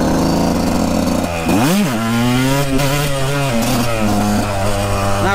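A warmed-up motorcycle engine runs loud and close, its steady idle rising into a revving surge and then settling into a strong, throbbing idle with wavering pitch.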